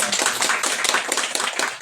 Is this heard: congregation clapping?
yes